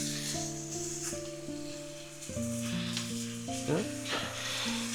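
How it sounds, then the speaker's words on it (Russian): Minced meat sizzling and frying in a pan, a steady close hiss with occasional stirring scrapes, while steady music plays over the top. "И в первую очередь нам надо хорошо фарш пожарить."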